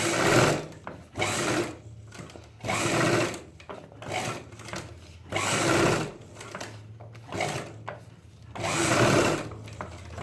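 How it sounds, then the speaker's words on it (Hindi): A sewing machine stitches elastic onto a pair of Punjabi-style pajama trousers, running in several loud, steady bursts of whirring stitches, each a second or two long, separated by short pauses. No one speaks. "सबसे पहले हम ऐसे सिलाई मारते हैं लास्टिक पे, देखिए।"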